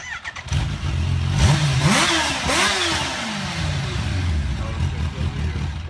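A Kawasaki Ninja H2 motorcycle fires up close by and settles into a rumbling idle, then two quick throttle blips swoop up and fall back as voices chatter over the engine.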